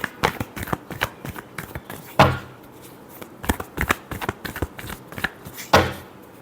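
Tarot cards are shuffled by hand in uneven bursts of papery flicks and slaps, with two louder snaps standing out, close and alone without speech.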